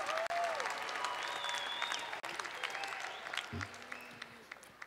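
Graduates applaud at a winter commencement ceremony in a theater, steady dense clapping from a crowd filling the hall, fairly distant and continuous, with a few whistles and cheers over it.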